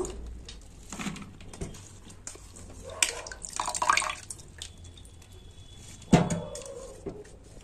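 Drumstick flowers are lifted from salt water into a basket, giving scattered splashes, drips and a couple of louder watery bursts close by, with quiet gaps in between.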